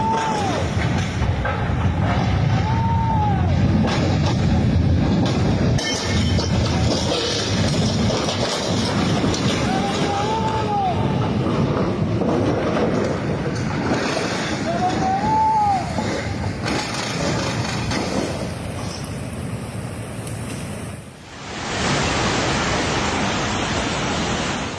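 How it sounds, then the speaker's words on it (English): Hurricane Fiona floodwaters surge in Puerto Rico as a bridge is swept away, making a loud, continuous roaring rush of water that holds steady for the whole stretch, with a brief dip near the end. "Hurricane Fiona struck Puerto Rico, unleashing furious floodwaters powerful enough to destroy and sweep this bridge away in"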